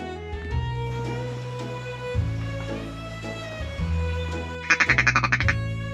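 Several ducks quack in bursts on a lake, with a quick run of rapid quacks near the end over a steady low hum in the background.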